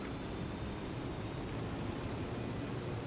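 Helicopter flying in the video game Ghost Recon Wildlands, a steady dense engine and rotor roar that holds constant throughout without a break.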